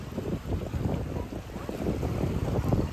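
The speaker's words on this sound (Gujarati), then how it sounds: "મોજા આવે એટલે પાણી આવે પાછું." Sea waves wash onto the beach at Dwarka, a continuous rushing surge with wind buffeting the microphone, close and fairly loud with no voices.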